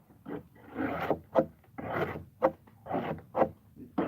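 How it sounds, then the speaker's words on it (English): Snow and ice are scraped out in a steady rhythm of rough rasping strokes, roughly one per second, close and fairly loud with sharper scrapes between them. "scrape this, keep this snow out as best"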